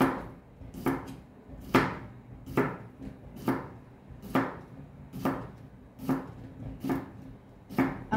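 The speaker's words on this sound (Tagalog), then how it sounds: "ang susunod ko na naman pong hihiwain ay ang cucumber" A knife chopping cucumber on a board, about ten evenly spaced crisp thuds in a steady rhythm, close and clear with no talking.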